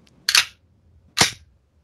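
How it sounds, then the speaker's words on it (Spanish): A recoil-simulating training gun fires twice, each trigger pull giving a sharp mechanical snap with a brief rattle, spaced about a second apart in otherwise quiet surroundings. "cuando accionan el disparador, simula el retroceso"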